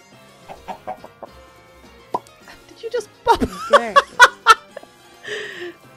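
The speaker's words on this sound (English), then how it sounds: "That was a chicken popping an egg." A Minecraft chicken laying an egg, with a burst of clucking chirps near the middle followed by a short pop, loud and close amid scattered game sounds.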